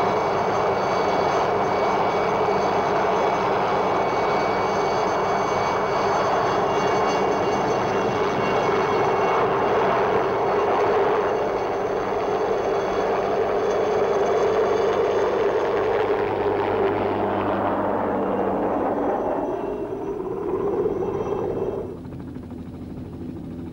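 Helicopter flying toward the Hornli hut on the Matterhorn in poor weather, a loud continuous engine and rotor roar that holds steady before fading out near the end, with no voices.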